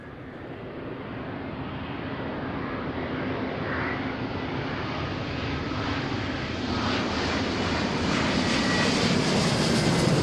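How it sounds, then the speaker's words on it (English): A widebody jet airliner with high-bypass engines arrives at Seattle, a steady broad roar that slowly swells louder over about ten seconds as it passes nearby, with no voices. "Such a quiet plane. Those new high bypass engines that are on all these newer generation aircraft,"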